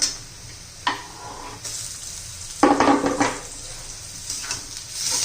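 Tomatoes go into a pan of frying onions for a spicy village-style drumstick bhaji. A moderate sizzle flares up as they land, followed by scraping and stirring against the pan.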